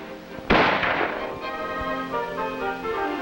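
A single loud M14 rifle shot on an Army training range, a sharp crack followed by a long ringing echo that fades slowly under a faint background tone.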